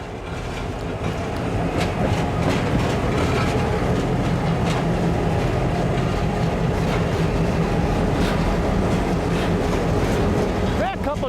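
Freight train led by a couple of GP38 locomotives, an F40 and a slug passing near the yard in Waterloo, Iowa, on the Iowa Northern: a loud, steady rumble of engines and rolling cars, continuous throughout.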